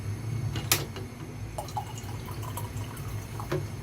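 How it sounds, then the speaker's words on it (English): Cold water is poured into a container of thick, strong Thai tea, heard as a faint, steady trickle with a few light drips and splashes, and no one talks over it. "I add cold water"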